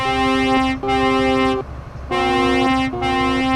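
In Euro Truck Simulator, an Iveco truck's deep air horn blares in two long blasts, each briefly broken, over a low engine rumble.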